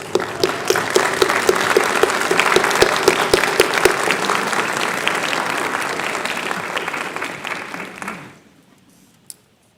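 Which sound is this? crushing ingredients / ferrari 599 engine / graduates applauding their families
graduates applauding their families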